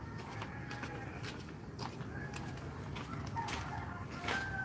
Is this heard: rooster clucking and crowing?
yes